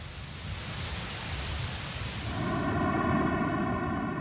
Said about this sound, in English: The sound of the audio afterglow, on the other hand, comes through with a vaguely musical quality.